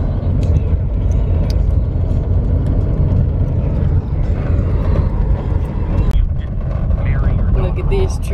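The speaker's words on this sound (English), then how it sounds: "I'm literally driving like 15 miles an hour because these roads are horrid." Car driving slowly over snowy roads at about 15 miles an hour, a steady loud low rumble of engine and tires inside the cabin with a voice talking over it.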